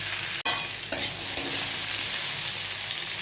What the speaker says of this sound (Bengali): এটাকে নুন দিয়ে ভালো করে ভেজে নিই